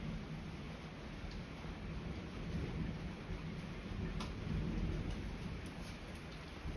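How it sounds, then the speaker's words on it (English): Thunder rumbles low and deep through heavy rain falling on an off-grid homestead. The rain keeps up a steady wash of patter while the rolling thunder swells and fades beneath it. "You're all scared of the thunder?"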